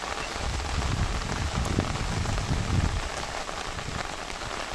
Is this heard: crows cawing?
no